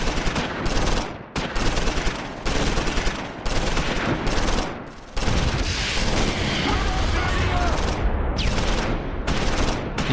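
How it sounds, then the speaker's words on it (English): Bazooka fire and heavy gunfire in the Close Combat 4 wargame, set in the Battle of the Bulge: repeated loud bursts of shots and blasts in close succession, with a few brief gaps between them. "The heavy anti-tank gun is destroyed with a single bazooka round."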